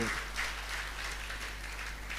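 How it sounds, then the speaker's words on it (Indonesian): Church congregation at a revival service applauding, a dense, even wash of clapping that holds steady from start to finish. "Tepuk tangannya pula yang paling meriah buat Tuhan."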